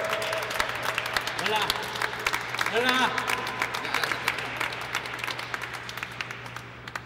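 An audience at a FIFA video game tournament applauds, a dense patter of clapping running under a voice that greets the crowd over a loud hall.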